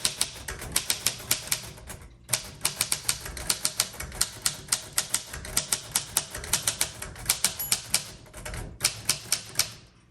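A 1938 Royal Model O manual typewriter being typed on, with loud, close, fast, steady keystrikes in long runs broken by brief pauses.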